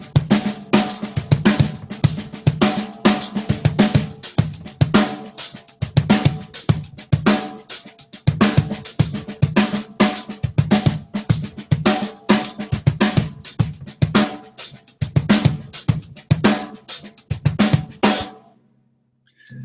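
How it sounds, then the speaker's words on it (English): A drum groove on hi-hat and snare over kick, played first with crossed hands and then open-handed, steady and loud throughout before cutting off near the end. "I will start with hands crossed and then switch to open-handed, and you'll easily see the benefits."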